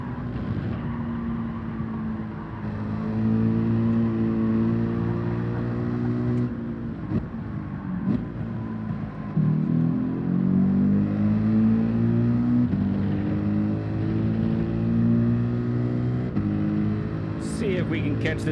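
A car engine in Gran Turismo 7 revs and climbs through the gears with rising and falling tones, steady and prominent under someone talking.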